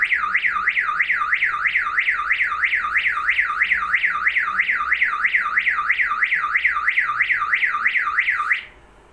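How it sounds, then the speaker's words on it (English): A Hikvision PIR camera alarm siren wails loudly and close in a rapid, repeating rising-and-falling cycle, sounding continuously before cutting off abruptly at the end. "because the alarm, the siren sound is too noisy"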